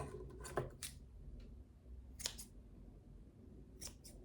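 Scissors snip through a bookmark tassel to trim its uneven ends, giving a few quiet, crisp cuts spaced out over several seconds in a calm indoor craft setting.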